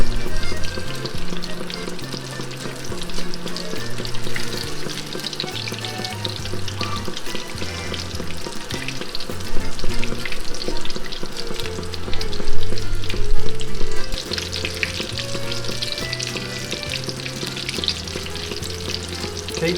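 Arancini rice balls fry in hot oil, a close, loud, continuous bubbling sizzle with fluctuating intensity and no speech.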